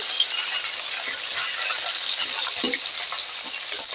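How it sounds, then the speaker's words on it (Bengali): Fresh pond fish frying in hot oil in a wok, a dense, continuous close sizzle with small clinks as the pieces are turned over. "মাছটা ভেজে থাকবে মাছ আমি উল্টে পাল্টে ভেজে নেব"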